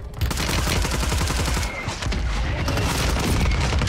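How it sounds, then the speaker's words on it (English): Heavy, continuous battle noise from the Warzone 3 video game, with mortar fire mixed into dense booming explosions and gunfire that stay loud and sustained throughout. "I'm using my mortar."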